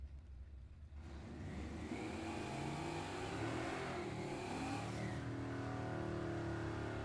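Drag race cars at a Buick-Oldsmobile-Pontiac day, including a Buick Century, rev hard at the starting line of a drag strip, a loud, sustained engine roar that swells and holds steady throughout.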